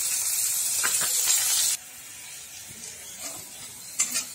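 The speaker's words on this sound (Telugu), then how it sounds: "ఆనియన్ అండి ఆనియన్ కొంచెం ఎర్రగా వేస్తే వేగాలండి" Onions fry in a hot pan with a steady, bright sizzle that drops abruptly to a quieter, gentler hiss with occasional soft stirring sounds.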